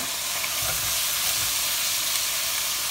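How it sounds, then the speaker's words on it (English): Shredded cabbage fries in a pan, giving a steady, loud, even sizzle with soft stirring bumps, no voices. "We're just going to kind of fry that down to get it all nice and soft"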